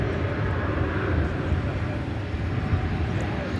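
An American Airlines Airbus A320 airliner at DFW Airport gives off a broad, steady engine rumble and roar that holds at an even level throughout, heard from a moderate distance.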